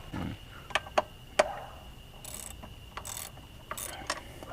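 Hand ratchet snugging a bolt on the rear valve cover of a 2003 Mazda Tribute V6: a few sharp clicks near the start, then scattered faint ratcheting and light metallic handling, close by and quiet with no talk.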